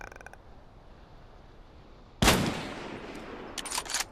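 A rifle fires in the VR game Contractors Showdown: one loud, sharp shot rings out after quiet handling clicks, followed by a short burst of fainter crackling reports near the end, with no talking.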